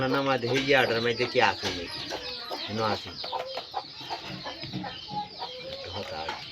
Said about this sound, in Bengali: এটা একটা পুরুষ ডাহক পাখি